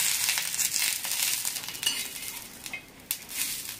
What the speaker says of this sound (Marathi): मिरच्या आणि शेंगदाणे असे संगच भाजायचे, म्हणजे दोन्ही पण असं छान भाजलं जातं